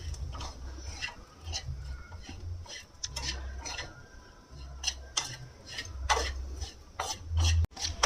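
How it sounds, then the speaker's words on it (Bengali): Semolina dry-roasts in a pan while a spatula stirs it, producing a run of close, rhythmic scraping taps and light clinks against the metal, fairly quiet overall with a sharper knock near the end. "এবারে সুজিটাকে ভাজা করব প্রথমে"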